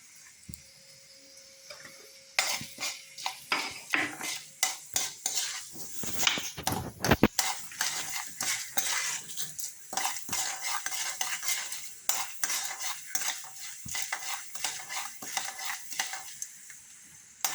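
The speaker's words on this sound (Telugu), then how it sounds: "ఇది పోపు వేగిన తర్వాత దీంట్లో ముందు ఉల్లిపాయ వేయాలి" A sharp burst of sizzling as onion drops into hot oil with frying tempering spices, followed by steady frying crackle with repeated clinks and scrapes of a spoon stirring in a metal pan.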